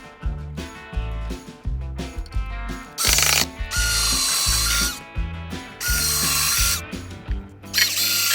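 A power drill whirs in bursts while drilling holes in a table near a metal hairpin leg, spinning up loudly for a second or two at a time, with rattling mechanical clicks and short pauses between runs.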